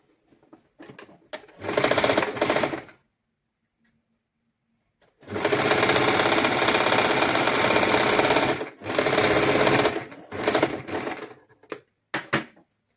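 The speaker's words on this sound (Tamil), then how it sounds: "இனி நாங்கள் அதே மாதிரியே இங்கால் பகுதியும் தைக்கலாம்." A sewing machine stitches a baby's summer dress in several loud, steady runs of whirring mechanical noise, the longest lasting several seconds, with short bursts and quiet pauses between them and no talking.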